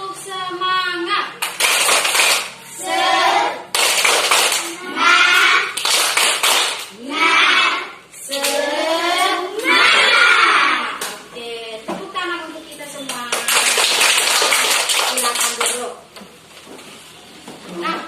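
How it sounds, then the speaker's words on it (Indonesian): Schoolchildren in a classroom do the tepuk semangat clap: rhythmic bursts of group clapping mixed with loud, chanted children's voices, repeated in quick patterned phrases. "Kita tepuk semangat dulu ya."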